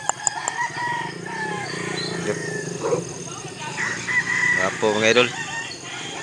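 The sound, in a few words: rooster crowing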